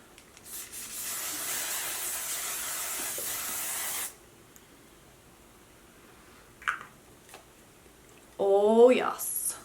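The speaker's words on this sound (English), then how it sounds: "So I'm gonna spray this all over." A long continuous hiss of makeup setting spray misted onto the face for about four seconds, then quiet with a small rustle, and a voice speaks briefly at the end.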